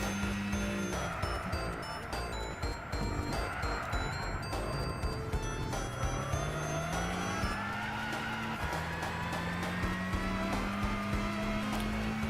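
A race car in the video game Gran Turismo 6 revs hard, its engine note climbing and dropping through gear changes, with tires squealing and skidding at the corners; loud and continuous, with no talking.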